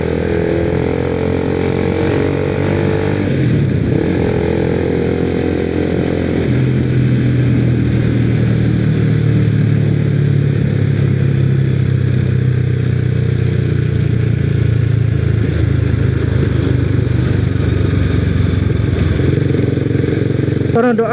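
A noisy, faulty Honda CBR250R motorcycle engine runs steadily up close for the whole stretch, a loud continuous drone whose pitch dips and rises as the revs shift, with a brief change near the start.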